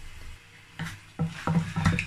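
Croaker fish stew stirred in a pot: a spoon scrapes and clinks against the pot in a few uneven strokes, close and fairly quiet, no talk.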